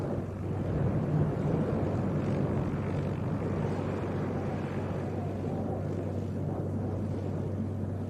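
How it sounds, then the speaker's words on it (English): Cessna light aircraft arriving from Scotland at Leeds East Airport, its propeller engine droning steadily at moderate distance with a constant rumble and no speech. "that Cessna has come in from Scotland"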